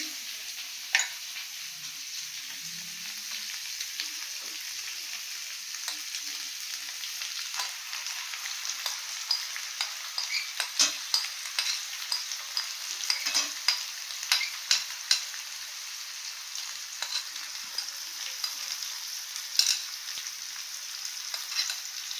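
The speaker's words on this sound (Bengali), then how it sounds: "এবার মিক্সড পালংটা দিয়ে দিচ্ছি।" Mixed spinach tossed into a hot pan and stirred as it fries, giving a continuous soft sizzle broken by many light scraping and tapping stirs over a long stretch; no voices.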